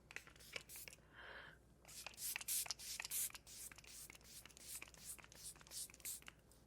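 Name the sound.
Anastasia Impeccable setting spray being sprayed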